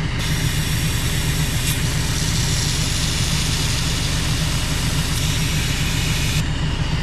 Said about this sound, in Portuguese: é pena que o trator faz barulho